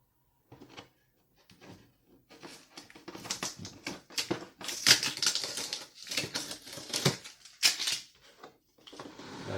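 Tape peeled and pulled from the seal of an Acer Predator Helios 300 SpatialLabs Edition laptop box, heard as a run of close, crackly rips and taps in irregular bursts with no talking.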